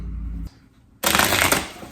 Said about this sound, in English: with the deck all shuffled and cut up how you like it